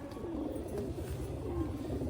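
A slim, light-weighted female pigeon offered for sale coos softly and steadily in low rolling tones, close by, against a constant background hum with no talk.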